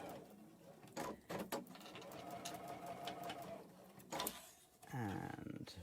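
A sewing machine stitches a puff quilt in short bursts of rapid mechanical whirring, with pauses and handling noises between runs, sounding close and moderately loud.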